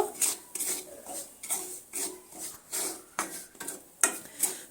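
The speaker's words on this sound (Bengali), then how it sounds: "একই তেলের মধ্যে সুজিগুলো ভেজে নিচ্ছি" Semolina stir-fried in oil in a pan over a medium flame, with a steady run of scraping, rasping spatula strokes and light clinks against the metal pan, close and repeated about twice a second, with no voices.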